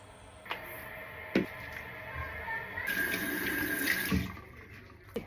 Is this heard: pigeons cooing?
no